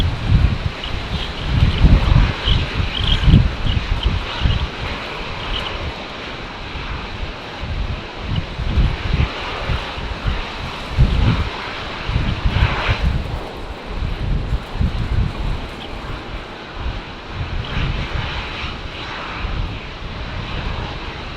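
Fixed-wing airliners at Brisbane Airport in strong wind, with a steady loud engine roar and rumble across the whole stretch, gusty wind buffeting the microphone on top, and no voices.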